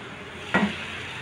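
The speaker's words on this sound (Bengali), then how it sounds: "আর এখানে আমার চিংড়ি মাছ হচ্ছে" Shrimp frying in a pan alongside okra gives a short, sudden burst of sizzling and stirring that quickly fades back into a low, steady kitchen hiss.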